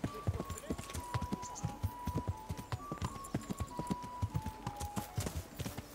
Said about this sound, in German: Wir reiten einmal hinaus und reiten wieder hinein.